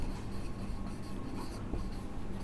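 Chalk or marker runs across a board while a line is written, making a soft, close scratching with small strokes and taps over a couple of seconds in a quiet room.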